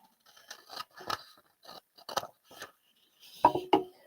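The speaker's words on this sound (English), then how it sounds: "I'm going to cut up the center line of that waist dart" Scissors snip through a paper sewing pattern along the centre line of a waist dart, with about eight crisp, close cuts in uneven bursts separated by short quiet gaps.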